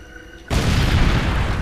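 A loud explosion in the video game Far Cry 2 bursts in after half a second of quiet, a single broadband boom that rumbles on at full strength to the end.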